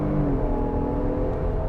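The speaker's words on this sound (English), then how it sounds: "the whine of those turbochargers is just so awesome" Ford Explorer 3.0 V6 plug-in hybrid runs under load with a steady engine drone and a thin turbocharger whine riding on top, loud and close, no voices.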